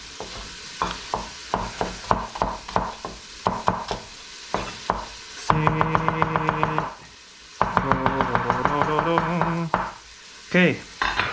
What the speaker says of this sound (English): Now chop this bad boy up. Trim the ends. Trim the ends. Ooh. Just roughly slice them up.